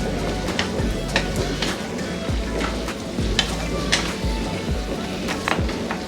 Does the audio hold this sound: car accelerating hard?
no